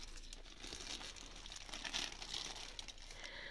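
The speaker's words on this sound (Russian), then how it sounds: "Давайте распаковывать большой пакетик." A plastic package crinkles as it is unpacked, with soft continuous rustling and crackling handled close by, fairly quiet and without talk.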